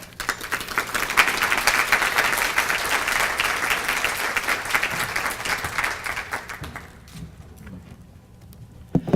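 Audience applause at a women lawyers' annual conference, a sustained wash of many hands clapping, loud and steady for several seconds before thinning out and fading near the end.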